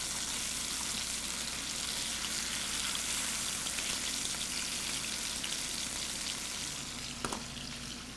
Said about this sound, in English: Now we've got the pork chops browned on that side, just like this. Turn them over.